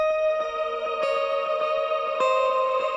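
A descending synth phrase is washed in full stereo delay from a Strymon Timeline pedal, its sustained tones and repeating echoes layered into a steady, dense wall of sound.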